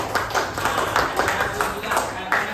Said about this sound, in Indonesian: Oke, tepuk tangan yuk.